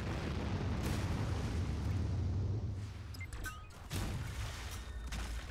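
A nuclear missile detonates in the futuristic city-building game Anno 2205, a sustained, rumbling explosion with a deep roar that swells and then eases off. A second burst of debris and impact noise follows, all loud and continuous with no talking over it.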